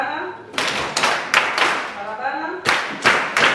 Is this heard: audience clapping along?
yes